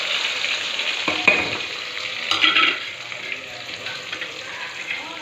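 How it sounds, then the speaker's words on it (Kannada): Steady sizzling of mint and onion frying in hot oil with mustard and cumin seeds, with a couple of brief stirring clatters partway through. "ಎಣ್ಣೆ ಹಾಕಿಟ್ಟು ಸಾಸಿವೆ ಜೀರಿಗೆ ಒಗ್ಗರಣೆ ಹಾಕೇನಿ ಈಗ ಅದಕ್ಕೆ ಇದು ಪುದೀನ ಉಳ್ಳಾಗಡ್ಡೆ ಹಾಕ್ತೇನೆ"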